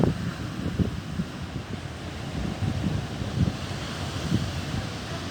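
Wind buffets the microphone at the seaside in Tuapse, a constant rushing roar with gusty low thumps and a faint wash of surf beneath, no voices.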